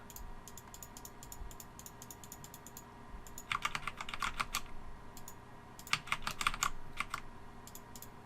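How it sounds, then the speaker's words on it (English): Sparse taps on computer keyboard arrow keys while navigating an embroidery design, single clicks at first, then two denser flurries of quick, sharp keystrokes, close and fairly quiet with no talking. "I'm using the arrow keys as the tapping sound you're hearing."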